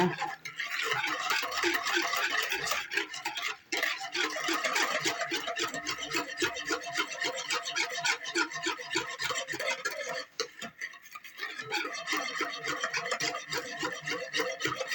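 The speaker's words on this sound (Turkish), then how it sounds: "Hemen çırpıcımı alacağım. Güzelce bir karıştırayım şöyle." A hand whisk beats a sugar mixture in a bowl with a fast, steady scraping rhythm, close and continuous, pausing briefly twice before carrying on.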